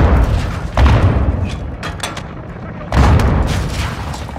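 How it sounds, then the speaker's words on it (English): Rapid-fire gun shooting in Call of Duty: Modern Warfare 2 (2022), with loud, booming bursts of multiple rounds, heavy thuds and echoing reports close by, swelling in two main waves. "I like guns like this where they just fire multiple rounds"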